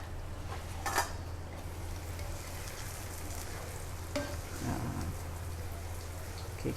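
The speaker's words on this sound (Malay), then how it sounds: "kita goreng sebelah ni kacangnya ya" Peanuts fry in a pan for sambal tempe with a steady, close sizzle, and a couple of soft stirring scrapes come through.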